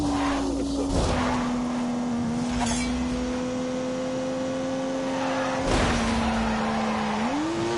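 Turbocharged 3-litre straight-six engine in The Grand Tour video game, droning steadily at a held pitch with brief tyre-squeal bursts and a rising rev near the end, loud and without talk.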